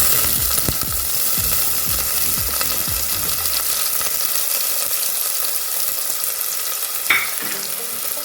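Onions sizzle and fry in a pan with salt while being stirred for goat head curry, with steady close frying hiss and scraping stir strokes early on, then a brief clink near the end.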